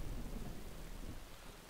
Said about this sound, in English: Oh, the rain is here.